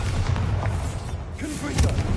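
Blasting Bombarda spell explosion in the Hogwarts Legacy video game, a few dull low booms over a steady bed of game noise, with a heavier thud near the end.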